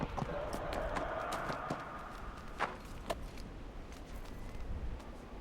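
Horse hooves clip-clop along a path in the video game Neverwinter, a steady run of light, close hoofbeats with a few sharper knocks, at moderate loudness.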